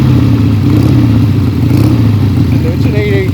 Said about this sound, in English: the idle on this thing will probably pick up a little bit as it warms up